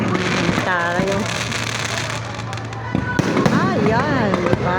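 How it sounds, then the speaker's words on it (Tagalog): A fireworks display at MOA bursts in continuous crackling and popping close by, with sharp bangs standing out, while someone talks and exclaims over the noise. "Ay, ganyan, isang oras na fireworks yata yan."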